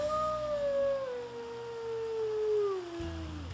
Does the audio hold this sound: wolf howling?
yes